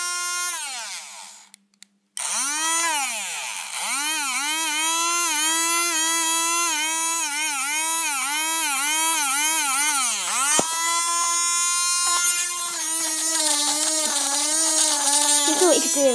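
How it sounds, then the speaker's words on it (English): A noisy battery-powered fan runs with its blades removed, its bare motor giving a loud buzzing whine that rises, dips and wavers in pitch. It cuts out briefly near the start, then runs on steadily. "Now, if you take the blades off, it sounds like a rotary tool."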